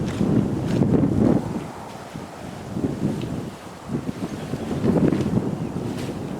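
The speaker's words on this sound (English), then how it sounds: "It's actually that breezy this morning, I had to tie down the corners of the hide to dead branches to stop it from blowing in round me." Strong breeze buffets a hunting hide outdoors on a hillside on a morning of crow shooting, a steady low roar of wind with heavy microphone rumble swelling and easing in gusts, no voices.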